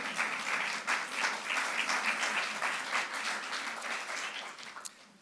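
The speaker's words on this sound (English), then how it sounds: "that's worth an applause of the Tübingen side" A talk audience applauds steadily for several seconds, with dense, even clapping at moderate volume that fades slightly toward the end.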